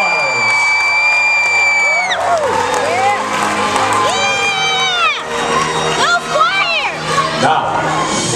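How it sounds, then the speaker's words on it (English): Loud crowd cheering and whooping for two young squires at a medieval knight tournament, with children shouting and high excited voices rising and falling throughout, sustained and near. "raise a cheer once again for these two young squires"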